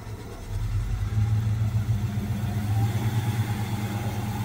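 A 1966 Chevy C10 pickup with a three-speed column shift turns over and catches, settling into a steady, rumbling idle with light revving, close and continuous after a brief quiet start.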